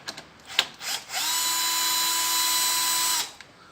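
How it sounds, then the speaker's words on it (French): Cordless screwdriver loosening a screw on a Peugeot 308 during injector seal replacement: a steady whining motor run of about two seconds, close and fairly loud, preceded by a few short clicks and knocks. "Donc la visseuse, moi je m'en sers pour desserrer, ça va bien."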